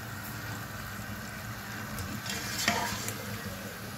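Meat frying with yogurt in a pot for Kabuli pulao, a steady close sizzle with occasional stirring scrapes.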